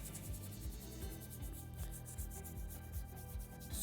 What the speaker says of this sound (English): So I'm just rubbing it in,